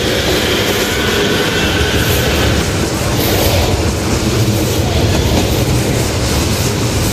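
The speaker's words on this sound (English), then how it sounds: "I'm gonna get on this train." A train runs steadily in the Roblox game, with continuous loud rumbling and rail clatter that stays constant and close, heard alone with no talk.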